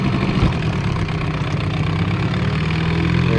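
A dinghy's outboard motor runs steadily in gear under load, a loud continuous low engine drone with a slight throb, no voices.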